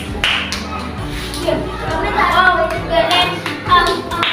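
A group of fifth-grade pupils claps in a classroom cheer for group 1, a loud burst of rhythmic hand claps mixed with children's voices and chatter, close by.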